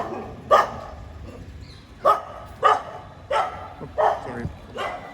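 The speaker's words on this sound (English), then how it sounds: "And those are dogs." Dogs bark from a short distance during an outdoor morning walk with parrots nearby, six or so separate barks spaced irregularly over a low background, with someone talking faintly around them.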